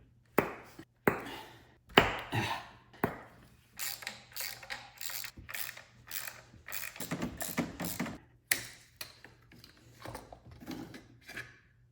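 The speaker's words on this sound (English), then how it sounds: "we're gonna disconnect all the plug wires, and then we're going to get all these 10 millimeter bolts around here to pull off the coil pack assembly" Ratchet work on a 1997-2004 C5 Corvette engine while plug wires come off and 10 mm coil pack bolts are removed, with rapid bursts of close, clicking ratchet pawl and sharp clacks of metal parts in an uneven rhythm.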